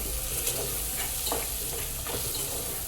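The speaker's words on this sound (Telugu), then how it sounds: "ఇప్పుడు బాగా ఎండు రొయ్యలు వేయించుకోవాలి." Dried shrimp fry in a pan for a Telugu cucumber-tomato curry, giving a steady close sizzle with occasional stirring scrapes and no talk.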